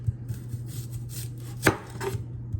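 A knife slices a red onion into rings on a cutting board, producing quiet, regular chops with one louder clack partway through.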